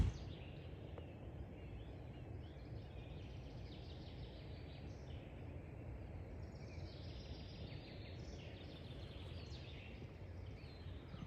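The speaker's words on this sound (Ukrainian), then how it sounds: "Чуєте, як співають пташечки." Birds sing faintly and at a distance in an oak and pine forest on a morning by the water, with scattered high calls drifting over a low, steady outdoor hum and no one talking.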